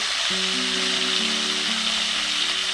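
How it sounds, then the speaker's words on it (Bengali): Hilsa fish frying lightly in hot oil give a steady, close hiss and crackle. A soft, simple melody of held tones plays faintly underneath. "মাছগুলোকে খুব বেশি ভাজবো না"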